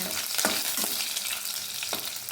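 Curry leaves and garlic stirred through hot oil in a pan, a steady close sizzle with a few sharp scraping strokes of a spatula, no voices.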